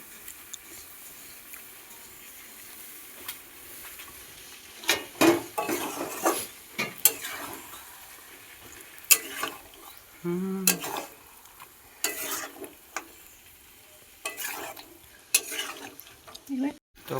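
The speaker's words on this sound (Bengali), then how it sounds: "আর মাংসটা ভালো করে কষাচ্ছে এখন" Chicken being browned and stirred in a pan for a home-cooked chicken curry with turmeric and ginger, giving intermittent scraping and clinking of a utensil against the pot with soft sizzling underneath.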